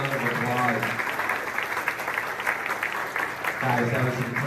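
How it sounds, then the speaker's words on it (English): Audience applause at a school or community event, steady clapping under and between voices with a brief dip in the middle. "Another round of applause."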